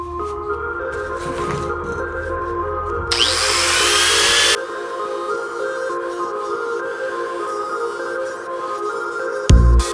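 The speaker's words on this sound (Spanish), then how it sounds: "ahorita voy a cortar esta como lengüeta así completa" A power tool cuts through a metal tab on an Italika FT110 café racer motorcycle, a steady grinding whine with a harsher, louder burst of cutting in the middle, then continuing at a lower level.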